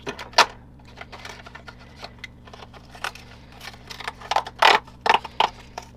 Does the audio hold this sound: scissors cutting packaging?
yes